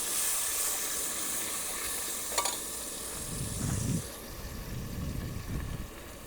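Crab curry with onion, tomato and salt cooking in a pan, giving a steady sizzle and hiss with a brief clink and occasional low stirring rumbles.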